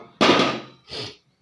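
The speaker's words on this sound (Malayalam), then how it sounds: "എന്നിട്ട് നേരെ ഗ്യാസ് ഓണാക്കുക." A gas stove burner is switched on: a sharp, close whoosh-pop of ignition that fades over about half a second, then a shorter, softer second burst before silence.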